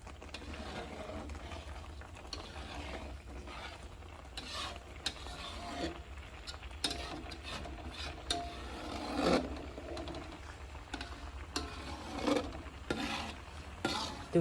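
Food frying and being stirred in a wok while cooking bothok and pepes tongkol, with a constant sizzle and repeated scraping, clattering strokes of a utensil against the pan at close range.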